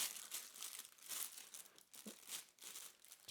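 A recyclable clear plastic bag from the packaging of a Nikon 18-55mm camera lens crinkles and rustles in quiet, irregular bursts, faint and close with no voices.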